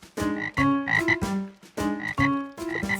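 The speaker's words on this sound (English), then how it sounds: "Frogs." Frogs croak in a cartoon Christmas display, loud, close calls repeating in two rhythmic bursts with short pauses, no talking.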